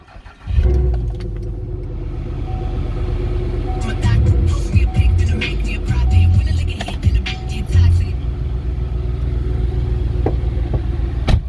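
A 2009 Chevrolet Impala SS with a check-engine light on for an evap fault cranks and starts, then settles into a steady, close idle rumble with a few throttle blips.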